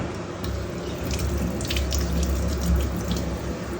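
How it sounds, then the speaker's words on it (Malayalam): Tap water runs in a steady, close stream over neem leaves being washed, a continuous splashing rush with no talking. "എനിക്ക് വേപ്പില കഴുകാം"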